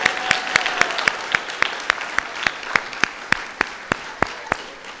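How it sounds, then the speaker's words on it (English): Applause for winners at a corporate research award ceremony, made up of crisp, evenly spaced claps in a steady rhythm, roughly four per second, close and distinct over a quiet room. "let's give a round of applause for all of our Next Great Idea winners"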